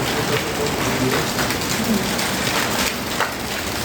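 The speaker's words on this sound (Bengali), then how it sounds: "আজকে বৃষ্টি শুরু হয়েছে অনেক বৃষ্টি হয়েছে" Heavy rain pours down steadily in a village, a dense, close hiss of drops drumming on surfaces without pause.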